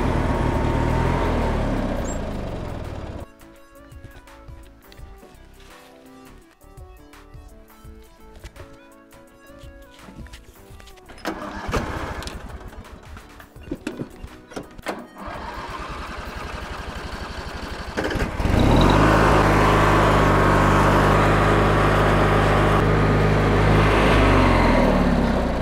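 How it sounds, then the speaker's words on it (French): A lawn tractor engine rumbles steadily on a trip through the woods near a chalet, dropping to a quieter, choppy running stretch before swelling into a louder, sustained drive close by. "On va y aller en tracteur à pelouse."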